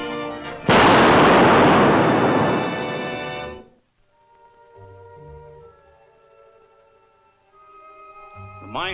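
A loud, sudden explosion wrecking a mine shaft, a film sound effect, bursts out and rumbles on for about three seconds before fading into quiet, low hum and faint tones.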